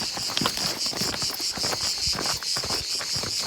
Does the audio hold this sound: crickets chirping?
yes